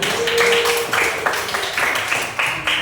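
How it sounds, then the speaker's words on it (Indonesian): Students in a junior high school classroom clapping together, a steady run of fairly close, rhythmic hand claps that carry through the whole moment with no talking over them. "Tepuk tangan buat kamu sekalian"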